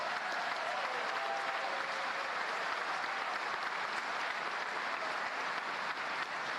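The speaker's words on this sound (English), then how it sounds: "Give yourself a round of applause." Graduating crowd at a university commencement applauding, a dense, even wash of clapping heard from a distance and at low level, holding steady without pause.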